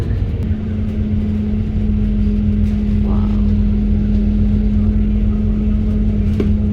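A motorboat engine drones steadily on Auckland harbour, a constant low hum holding at the same level throughout with a brief swell of noise near the middle and at the end.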